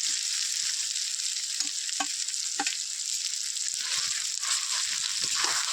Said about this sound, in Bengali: মানকচুর পাতা বাটা ছিল সেটা আমি কড়াইয়ের মধ্যে দিয়ে দেব